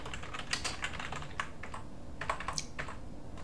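Rapid keystrokes on a computer keyboard while entering a command at the command line, a steady run of close, crisp taps with brief pauses and no talking.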